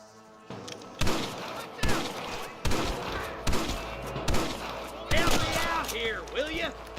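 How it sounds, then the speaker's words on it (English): Gunfire in the Western video game Red Dead Redemption, a series of sharp shots cracking out roughly every second amid other game sounds, with a character's voice heard speaking over the action. "I can hear more gunshots."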